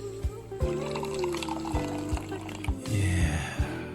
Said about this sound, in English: Y'all hear me pour